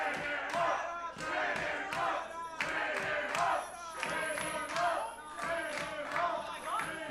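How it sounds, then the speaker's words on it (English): Wrestling crowd at a multi-man match chanting in loud rhythmic unison, repeated vocal bursts of massed voices filling the arena throughout. "Crowd chanting, chain him up."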